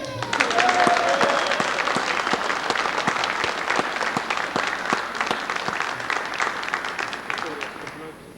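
A crowd cheers and applauds steadily for several seconds, with dense clapping and scattered shouts. The sound is close and full, and it thins slightly toward the end.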